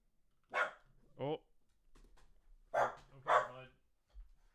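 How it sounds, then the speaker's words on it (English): A pet dog barks nearby in a quiet indoor room, a few sharp barks spaced over several seconds, with a faint voice between them. "Sorry about that. That's my dog."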